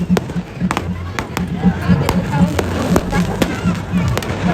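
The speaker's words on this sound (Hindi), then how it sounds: "फड़ाक और इतने सारे पटाखे होते हैं, उसको देखना, एंजॉय करना।" Firecrackers and fireworks bursting at a Chhath festival celebration in Bihar, a rapid irregular crackle of sharp pops over a busy outdoor din, with people talking in the background.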